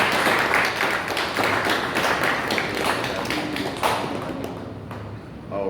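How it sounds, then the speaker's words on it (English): Applause and clapping from an audience welcoming a speaker to the stage at a 2016 talk, steady dense clapping throughout that thins slightly toward the end. "Let's bring Brother Dwight back to the roster with a warm round of applause"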